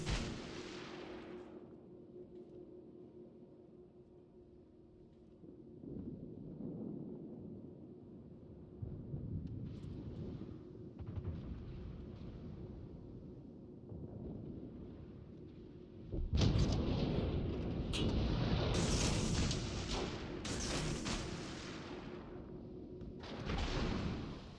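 Heavy naval gunfire from a World of Warships battle with a Benham destroyer: deep booming salvos and rumbling blasts, quieter at first and then a dense, loud barrage late on, with no voices.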